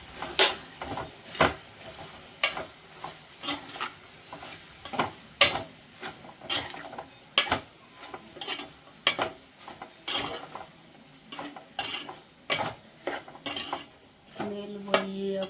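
A spoon stirs a bean and tomato curry with salt in a pan, producing a long run of regular scraping clinks against the metal, roughly one or two per second, over a soft sizzle.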